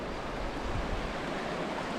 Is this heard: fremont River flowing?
yes